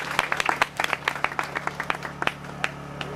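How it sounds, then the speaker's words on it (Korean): A church congregation claps during a Korean sermon, a short round of scattered, uneven hand claps from a modest group, close and fairly crisp, fading after about three seconds. "두 분 박수해 주세요."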